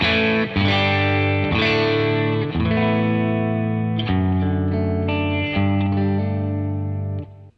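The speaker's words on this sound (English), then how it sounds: "And my amp, which is the Matchless, sounds like this." An electric guitar through a Matchless amp and Torpedo cabinet rings out with strummed, sustained chords, a warm slightly driven tone with a few distinct changes, played alone and fairly loud.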